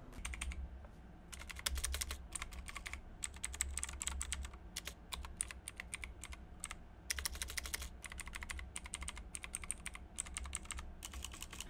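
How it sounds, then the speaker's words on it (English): Rapid typing on a gaming keyboard with loud clicky switches, each press giving a sharp click in quick irregular bursts with brief pauses, close and alone. "These are one of the loudest switches you can get because every press will get you that click."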